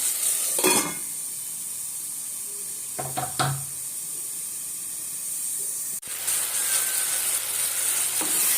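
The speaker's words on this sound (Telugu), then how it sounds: "టమాటా ముక్కలు మగ్గిన తర్వాత కొంచెం చింతపండు ఉల్లిపాయలు పుదీనా వేసుకొని ఒక ఐదు నిమిషాలు మగ్గనివ్వాలి" Tomatoes, tamarind, onions and mint sautéing in a pan for tomato chutney, a steady bright sizzle broken by a few sharp clanks of a spoon against the pan, close by, with no voices.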